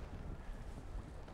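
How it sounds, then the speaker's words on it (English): Wind blows over a lake around a fishing boat as a low, steady rush with gusty microphone buffeting, faint and brief, with no voices. "This isn't a brutal wind."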